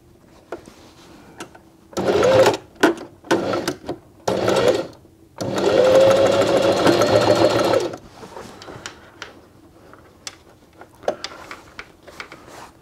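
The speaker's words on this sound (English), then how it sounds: "I'm going to do exactly the same with the bottom, although the sewing will be more difficult" A sewing machine stitches a bag onto a bivvy for a camping conversion, loud close whirring in several short bursts and then one long run of several seconds, with quieter handling clicks between them.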